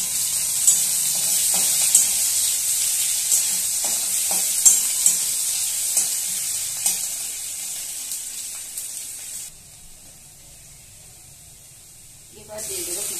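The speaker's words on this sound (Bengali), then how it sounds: "এবার আমি দিয়ে দিচ্ছি একটা মিডিয়াম সাইজের পেঁয়াজ কুচানো" A medium onion, chopped, hisses and sizzles in hot mustard oil for an okra curry, with scattered stirring clicks. The steady frying noise stays close and loud, then drops away near the end before a brief return.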